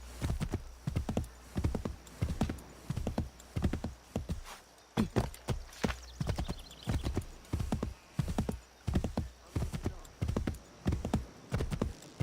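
Steady rhythmic hoofbeats of a horse clip-clopping at a trot in a video game, clear and close, with an occasional neigh among the footfalls.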